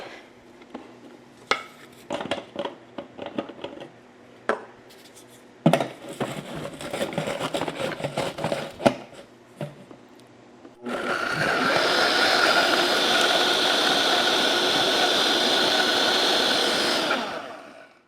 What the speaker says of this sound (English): That is a full blender. All right, let's give this a run.